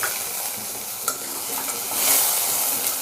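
Tomato and onion fry in a pan for a quick chutney, a steady close sizzle with scraping stir sounds and a brief louder burst partway through, no voices.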